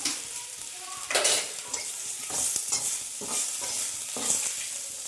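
Crushed ginger and fragrant leaves sizzle in hot oil in a pan while being stirred, steady frying hiss broken by repeated scraping strokes of a spoon, close and moderately loud.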